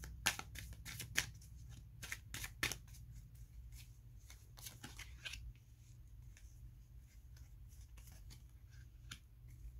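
Tarot cards are shuffled by hand, giving a run of crisp riffling snaps and flicks clustered in the first few seconds and then sparser, set against a steady low hum with no talking.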